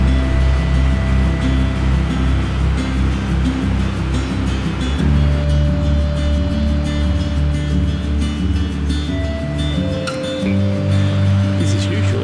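Floodwater rushes like a creek over a path that is normally dry, a loud, continuous roar of flowing water close by with a low rumble beneath.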